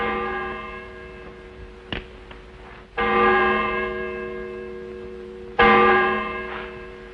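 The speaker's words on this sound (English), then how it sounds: "That bell was your call to prayers, mister." A church bell rings out in a western setting, with three distinct strikes, each followed by a long, ringing, tonal decay. The tolls are moderately loud and clear, with no talk over them.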